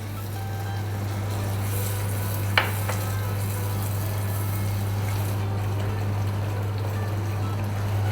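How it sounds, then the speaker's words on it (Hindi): Ground tomatoes fry in oil with spice masala for a prawn curry, giving a steady, even sizzle that runs continuously close by, with a low hum underneath and a single sharp tap partway through. "देखें हमारा तेल ऊपर आ गया है, अच्छे से भुन रहा है।"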